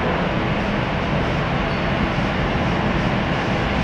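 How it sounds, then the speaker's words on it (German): A steady, loud rumbling roar fills the air as an RE 6 regional train pulls into the underground Düsseldorf Airport station through its tunnel, with no break in the noise. "auf Gleis 6 fährt ein RE 6 nach Düsseldorf Hauptbahnhof"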